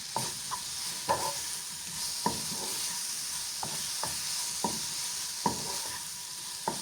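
Chopped tomato sizzles softly in a hot pan while a utensil scrapes and stirs at irregular intervals, with no talking.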